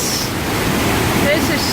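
Blakiston Falls roars close by, a loud, unbroken wash of falling water with a broad steady rush and no pauses.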